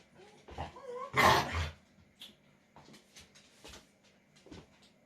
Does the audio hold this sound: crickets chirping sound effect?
no